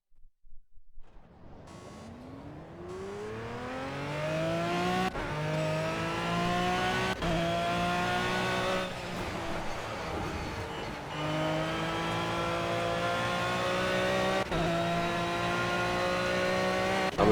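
An Aston Martin Vantage V12 GT3 races around Monza in Project CARS, its engine revving loud and close, climbing through gears with sharp upshifts and repeated surges of acceleration, brief lifts under braking, then pulling hard again.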